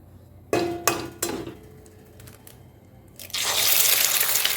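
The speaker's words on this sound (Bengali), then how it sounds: "এবার ডিমটা এখানে ভেঙে দিয়ে দিয়েছি।" An egg is cracked into hot oil in a wok: a few sharp taps and clinks come first, then a loud burst of sizzling rises and holds to the end.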